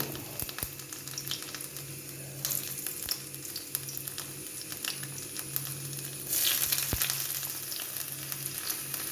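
Cumin, mustard seeds and garlic frying in oil for a papaya and lentil curry, a steady close sizzle with occasional stirring scrapes and a few pops.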